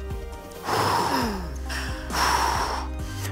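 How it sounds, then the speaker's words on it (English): Heavy breathing close into a microphone during a mobile game esports broadcast, two loud breathy exhalations with a rough, hissing edge over a steady background hum. "whoever's breathing on their mic, please stop it because it sounds freaking weird"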